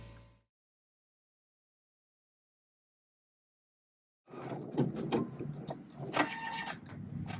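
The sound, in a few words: embroidery machine stitching a decorative stitch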